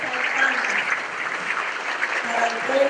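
A congregation applauds at a Hispanic Catholic Charismatic Renewal gathering, a sustained, moderately loud clapping that runs through the whole stretch with some faint voices mixed in.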